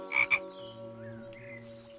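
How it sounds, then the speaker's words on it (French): A cartoon frog croaks twice in quick bright bursts near the start, followed by a soft sustained musical backdrop with a few faint tonal squeaks and no speech. "Ah, une grenouille."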